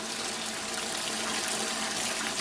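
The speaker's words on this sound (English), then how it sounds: "Getting plenty of water flow out of there, but we're not using a whole bunch of water." Portable water sprayer running about a gallon of water from a bucket, giving a steady, loud hissing spray that continues unbroken throughout.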